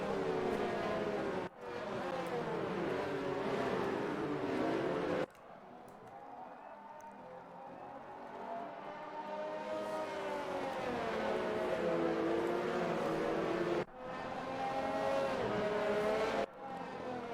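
Race cars circle Monaco's street circuit on a warm-up lap in a sim racing game, engines droning with rising and falling pitch across the whole stretch, loud and continuous, with brief dips as the sound cuts.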